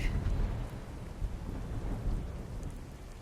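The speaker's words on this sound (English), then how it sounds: "The hills are alive with the sound of the rain. Gray skies. Thor must be angry today." Thunder rolls and rain pours steadily in a thunderstorm in the video game The Darkside Detective, with low rumbling and dense patter continuing alone throughout.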